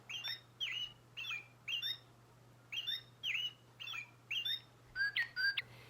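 Toy robin and cardinal birds sing in a run of short, bright chirps and squawks in regular bursts, clear and close over a low steady hum, with no talking.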